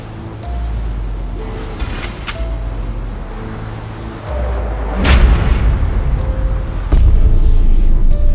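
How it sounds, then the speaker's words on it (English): Two sharp, booming gunshots in an animation ring out a couple of seconds apart over a steady low rumble, each with a brief echoing tail. "But Russell fired again, hitting his leg."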